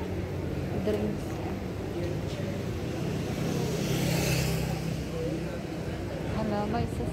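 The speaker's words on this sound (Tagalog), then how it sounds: "Hala, may sasakyan." A car passes along a city street, its engine and tire noise swelling and fading amid steady traffic ambience, while a person talks over it.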